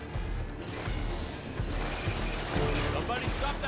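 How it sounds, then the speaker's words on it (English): Rapid automatic turret fire in a video game, a dense continuous burst of shots with game noise and a voice speaking over it. "Watch out, the turrets are shooting at you guys."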